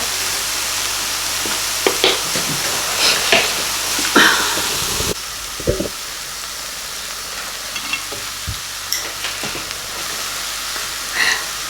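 Pork belly and plenty of vegetables sizzle in a Thai moo kratha grill pan, a steady loud frying hiss with scattered clinks and scrapes of stirring utensils, no voices.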